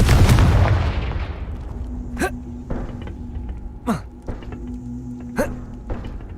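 A Confringo blasting spell in a Harry Potter video game: a loud, rumbling blast that fades over the first second, then three sharp whooshing impacts at spaced intervals over a low steady game hum.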